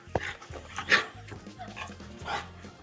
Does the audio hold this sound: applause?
no